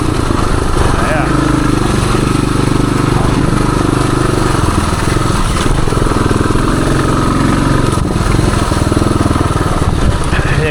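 A 1978 Suzuki DR370 trail motorcycle runs steadily through the woods in high gear, its engine a continuous, loud rumbling drone with no pauses across the ride.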